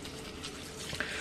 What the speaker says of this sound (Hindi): तो अभी पानी खोल के क्या है कि यहाँ पे थोड़ा पानी मार लें रेडिएटर पे